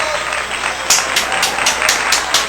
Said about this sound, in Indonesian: Yuk tepuk tangan dulu yuk.